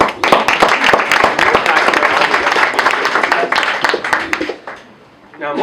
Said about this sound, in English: I just would like a round of applause for the great work the TISA exec team has done this year.